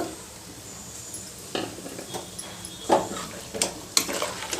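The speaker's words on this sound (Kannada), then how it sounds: "ಇದನ್ನೆಲ್ಲ ಚೆನ್ನಾಗಿ ಎಣ್ಣೆಯಲ್ಲಿ ಸ್ವಲ್ಪ ಫ್ರೈ ಮಾಡಬೇಕು" Coriander, mint and tomato paste fry in oil for a chicken curry, a soft continuous sizzle broken by occasional scrapes and clinks of a spoon stirring against the pan.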